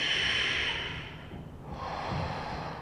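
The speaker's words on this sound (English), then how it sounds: "2 deep rounds of breath here in Warrior One." Deep breathing in a Warrior One yoga pose, a strong airy inhale followed by a slower, softer exhale, close and clear with no talking.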